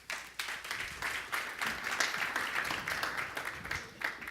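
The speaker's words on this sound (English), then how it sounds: "So give him a round of applause." Conference audience claps and applauds at a business summit, a steady patter of many hands heard at moderate distance, fairly quiet and continuous for a few seconds.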